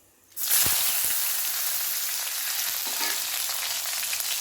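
Fennel seeds and sliced onion hit hot oil for a tempering in a mint coriander chicken fry, bursting into a loud, steady sizzle that holds evenly after a quiet start.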